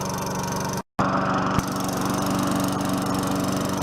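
Tecumseh 4.5 HP lawn mower engine running steadily up close, a loud continuous buzzing drone with a brief dropout near the start, no voices.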